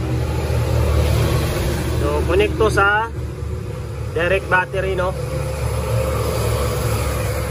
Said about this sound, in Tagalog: Ingay boss, daming dump truck no. Maingay.